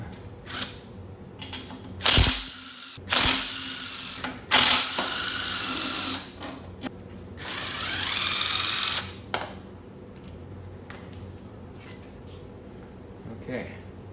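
Hand tools loosening throttle body bolts on a 2013 Ford Taurus SHO engine during teardown, with clicking ratchet bursts and metallic clatter, some louder close scrapes, and a quieter stretch near the end.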